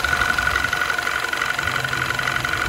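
A turbocharged Audi/VW engine idles, recorded from a phone resting on the intake manifold, giving a loud, close, steady hum with a constant whine and no voices.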